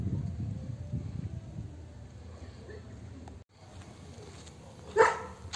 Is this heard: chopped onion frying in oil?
no